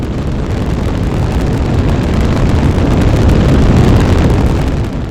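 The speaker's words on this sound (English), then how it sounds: "We're launching. Listen to those engines roar." A loud, continuous rocket engine roar from Kerbal Space Program, dense and rumbling, holding steady without a break.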